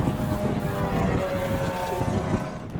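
Wind gusting across an outdoor golf course, a steady broadband rush and microphone buffeting that stays loud and continuous throughout.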